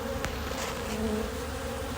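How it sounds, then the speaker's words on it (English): Honeybees buzz in a dense, steady swarm close by at a hive in an apiary, a continuous humming drone with no other sounds. "these bees want to get out"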